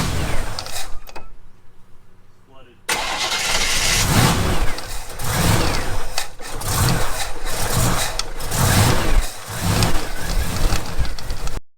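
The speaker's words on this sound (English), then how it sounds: "So it's running and idling on E85" A supercharged GBody car engine running on E85 cranks, catches and settles into a loud, lumpy idle with a rhythmic pulsing lope, close and continuous after a short quiet pause.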